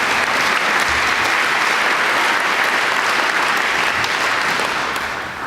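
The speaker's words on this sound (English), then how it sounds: "Let's give our sponsors and everybody on the program a round of applause." A large audience at the Fulton County State of the County address applauds its sponsors and program participants, a loud, dense, steady wall of clapping that holds for several seconds before starting to taper off.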